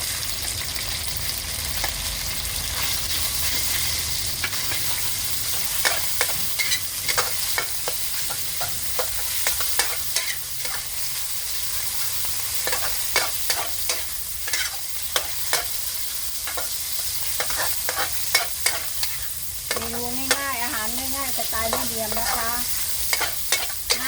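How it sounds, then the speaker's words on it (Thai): Pork stir-fries with garlic in a hot pan, giving a continuous loud sizzle broken by frequent scraping and clacking spatula strokes, close up and without talk. "เอาหมูลงผัดกับกระเทียมค่ะ"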